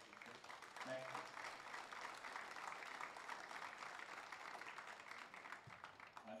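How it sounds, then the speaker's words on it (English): Crowd at a 2023 Michael Byrne Cup final between Colga and Salthill Devon clapping for the match officials, a steady wash of applause heard from a distance at low level. "I want to give a massive round of applause to all the match officials"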